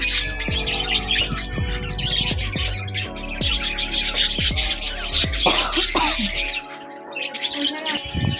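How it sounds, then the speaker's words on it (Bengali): A common myna calls outdoors near a temple in Puri, giving a series of loud, harsh squawks and chirps in uneven bursts over steady background bustle. "এই যে শালিক পাখিটা আমাদের দেখে ভয় পেয়ে গেছে"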